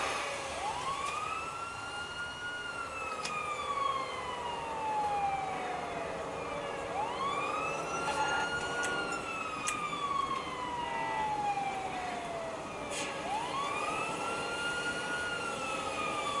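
Fire engine siren in GTA Online, a steady wailing sweep rising and falling in long repeated cycles, with a secondary higher siren tone layered above and faint traffic rumble underneath.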